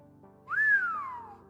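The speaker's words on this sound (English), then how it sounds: "The Irishman whistled." A single rising-then-falling whistle from a man, clear and close, lasting about a second over a quiet musical background.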